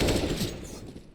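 Gunfire in a competitive Counter-Strike league match, with a loud cluster of rifle shots up front that fades into a lingering rattle, with no voices.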